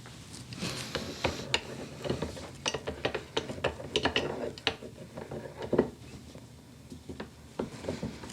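Ratchet clicks while unscrewing a 7.3 Powerstroke diesel injector bolt: a close, irregular series of sharp metallic ticks in short bursts, fairly quiet overall.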